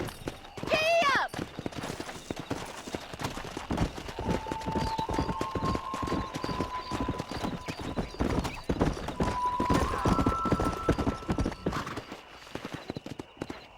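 In the Red Dead Redemption video game, a horse neighs at the start, then galloping hooves pound in a fast, dense rhythm throughout, with speech and whistling tones over them.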